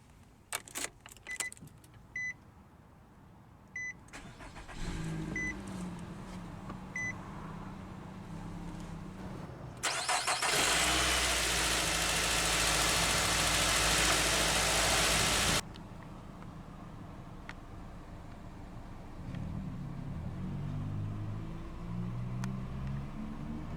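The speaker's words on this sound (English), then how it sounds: "let's go ahead and start the engine" Keys jingle and a few clicks, then a 2020 Nissan Rogue S FWD engine cranks and catches with a loud rev before settling into a steady, low idle.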